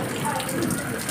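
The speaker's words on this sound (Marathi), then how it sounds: "आणि हा पाऊस" Rain falling on a flooded school courtyard during the monsoon, a steady broadband wash of water noise with a faint voice underneath.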